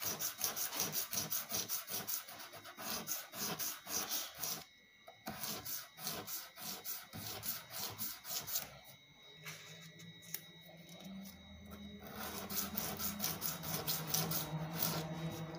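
Sandpaper rubbed against the wooden body of a BC Rich Warlock bass guitar, steady close rhythmic rasping strokes that continue almost without pause, alone without talk.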